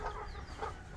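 Chicken clucking close by in a short, steady burst, with a few sharper calls standing out over a low background rumble; no voices are heard.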